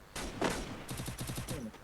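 Rapid gunfire from a shooter video game, including sniper shots, sounds as a sharp loud burst followed by a quick rattling string of shots and a fading echo, all close and dense.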